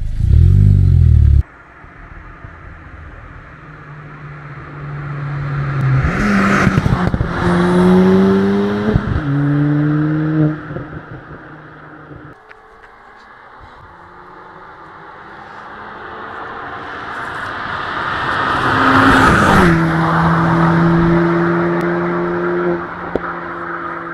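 Ford Fiesta ST MK7 with a Stage 2 tune, heard from outside, revving loudly in several sharp climbs with rising harmonics, then settling back to a steady idle between the bursts.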